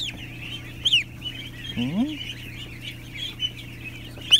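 A honking goose call rises once, with scattered high bird chirps and a steady hum in the background.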